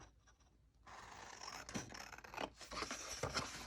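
Scissors cut paper pieces for a junk journal at close range, with quiet snipping and scraping strokes after a short pause and a few sharper cuts between them, with no talking.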